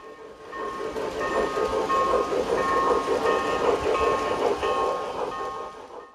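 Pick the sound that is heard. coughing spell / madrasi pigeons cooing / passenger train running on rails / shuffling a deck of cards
passenger train running on rails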